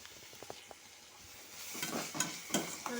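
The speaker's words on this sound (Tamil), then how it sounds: "பாவக்காவை பொடிசாக நறுக்கி அதை போட்டு நல்லா வதக்கணுங்க. நல்லா ஃப்ரை பண்ணிடணும்." Finely chopped bitter gourd frying in a pan while being stirred, soft scattered ticks at first, then louder scraping stirs and sizzling bursts in the second half, close by and with no talking.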